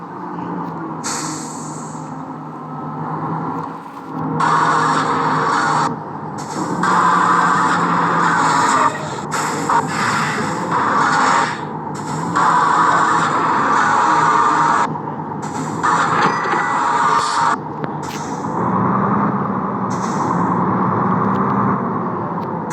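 A heavy truck braking in a video game: a steady engine drone overlaid with repeated hissing, scraping bursts that come and go over about twenty seconds.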